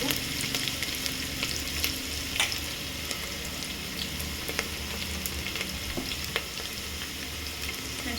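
Chopped onions fry in a pan for a vegetable pulao, giving a steady, close sizzle with occasional stirring clicks and scrapes throughout, with no talking.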